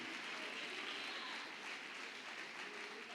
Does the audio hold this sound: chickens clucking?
no